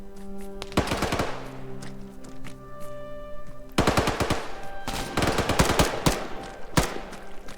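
Rifle fire rings out in the game ArmA 3 during a Ravage survival mission in Livonia: sharp rapid bursts and single shots. A pause comes midway, then heavier volleys with ringing echoes fade away.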